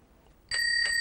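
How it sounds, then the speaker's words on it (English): A bell sound from a free phone app rings twice in quick succession, bright and clear against near silence. "So every time that I ring the bell, which will sound like this"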